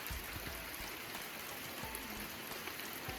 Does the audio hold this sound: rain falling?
yes